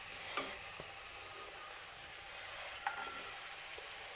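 Chopped cabbage sizzles faintly in a pan for a cabbage and peas sabzi while a spoon stirs it, giving a few soft scraping knocks over a steady low frying hiss.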